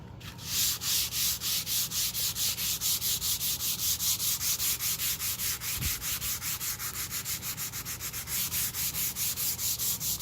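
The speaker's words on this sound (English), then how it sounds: "I'm going to take my 220 grit sandpaper" 220 grit sandpaper rubs back and forth over painted wood in fast, even strokes, about forty close scratchy swipes in a steady rhythm.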